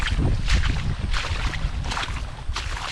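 Steady, dense hiss of heavy rain pouring down over a sweet potato field while ditches are dug, loud and continuous, with gusty swells and low rumbling underneath.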